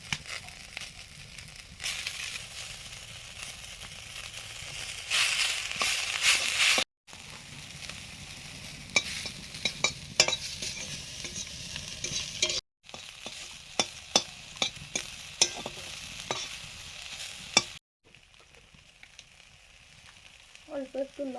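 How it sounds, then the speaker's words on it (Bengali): Young neem leaves fry in hot oil, a continuous sizzle with crackles and occasional stirring scrapes, broken by brief silent gaps. "এবারে কচি নিম পাতাগুলো ভাজছি।"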